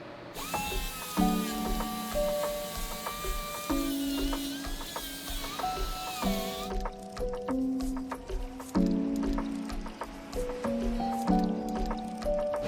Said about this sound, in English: This is a hole saw. This is a header, making a hole to add this thing on there.